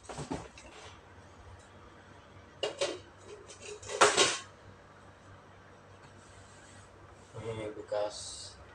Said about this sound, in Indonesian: Jadi biasa saya mau nyuci-nyuci piring dulu ya teman-teman.